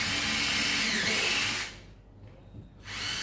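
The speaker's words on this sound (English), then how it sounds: "what I'm going to do is I'm going to pre-drill them" A power drill pre-drills screw holes in a sauna bench board, a loud close whine that runs steadily, cuts out for about a second, then starts up again.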